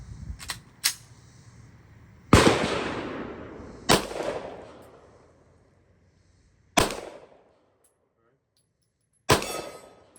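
Glock 17 pistol fired at an outdoor range toward a target about 25 yards off, five or six sharp single shots with ringing decay, spaced irregularly across the stretch, loud and close.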